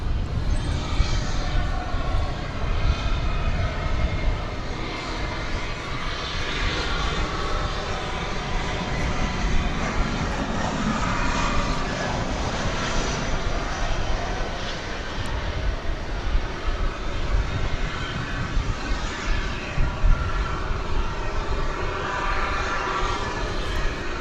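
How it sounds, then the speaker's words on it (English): An Airbus A321 airliner on American Flight 2651 touches down at DFW Airport, arriving from Los Cabos, Mexico; a loud, steady broadband engine roar fills the scene continuously without letup. "American Flight 2651, touching down from Los Cabos, Mexico, in Airbus A321."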